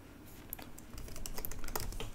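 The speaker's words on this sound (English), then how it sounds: "I type in my password and press OK." Keys tapped in a quick irregular run on a Mac keyboard while a password is entered, the clicks close and crisp with no talking.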